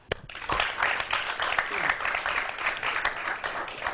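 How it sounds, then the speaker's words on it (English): An audience of students and guests at a formal school event applauds after a few early claps, settling into steady, dense clapping at moderate volume throughout. "I would like you to clap for yourself"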